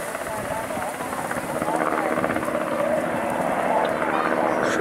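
Helicopter flying over a wildfire in Datça with strong wind, its steady rotor drone heard at a distance throughout, with a voice talking over it.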